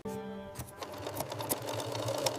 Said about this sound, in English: Now we'll sew the seams together,